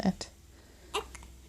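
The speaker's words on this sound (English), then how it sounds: "it's annoying to have hiccups, isn't it?" A baby gives a short, squeaky hiccup, quiet and close, with a second faint catch just after in a calm indoor room.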